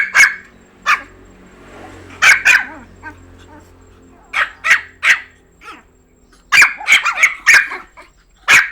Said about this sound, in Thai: หมาพันเล็กนี่ชอบเห่านะครับหมาปอมนะครับ